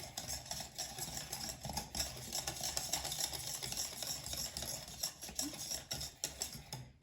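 Spoon stirring no-bake chocolate cookie ingredients with vanilla together in a bowl, a quiet continuous scraping and patter of mixing, close but faint.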